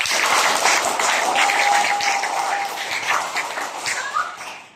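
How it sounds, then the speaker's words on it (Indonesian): Indonesian schoolchildren in a classroom clap for themselves after finishing their work. A steady, moderately loud wash of many hands clapping runs for several seconds and gradually tapers off. "Coba kasih tepuk tangan buat diri sendiri dulu."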